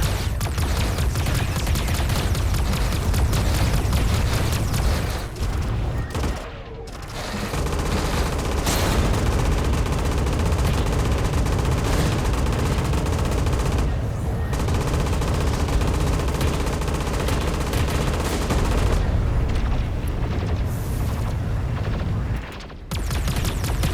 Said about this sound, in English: Constantly shooting me in the back.